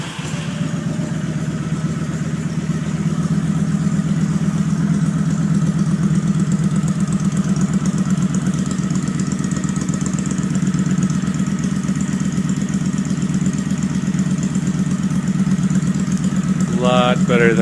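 A motorcycle engine idles nearby with a steady, loud, smooth throb that continues unbroken for the whole stretch.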